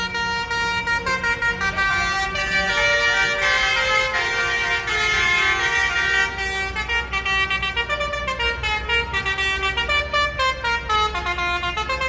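Several tractor horns at a 2024 tractor protest sound loud, sustained musical tones, trying to play song melodies that overlap and clash as different horns start different tunes, continuous and close for the whole stretch.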